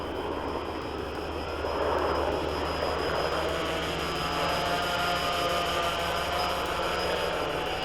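A WLToys V303 Seeker quadcopter drone with a camera mounted underneath flies in, its motors giving a steady high whine over a broad airy rush that swells slightly as it nears.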